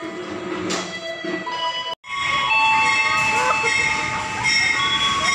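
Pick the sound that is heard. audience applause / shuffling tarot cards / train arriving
train arriving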